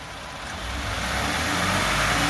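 A 2018 Ford F-150 with the 2.7 EcoBoost engine and a K&N air intake revs up, its roar swelling steadily and loudly over a couple of seconds.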